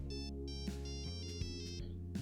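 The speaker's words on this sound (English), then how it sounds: "My phone's calling for me" A phone ringtone plays inside a video game, a bright tonal electronic melody of repeated short notes over a low sustained synth tone, clear and alone.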